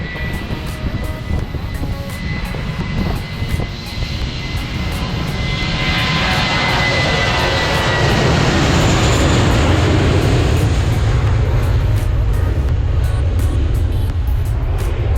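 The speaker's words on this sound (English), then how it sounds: "This is the closest I've ever been to a jet, and it's gonna take off right here." A loud jet engine roar builds and swells as the jet takes off nearby into the rain, a dense rushing rumble that grows steadily louder, with no talking.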